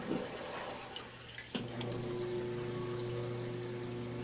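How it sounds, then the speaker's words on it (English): A household sump pump kicks on partway through, its steady running hum and water noise continuing close by after a sudden start, with no talking. "And the sump pump decided to come on."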